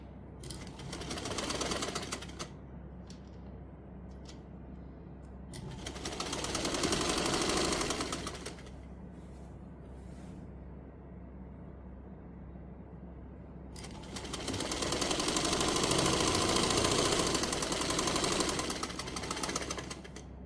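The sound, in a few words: sewing machine stitching a half-inch seam on a frock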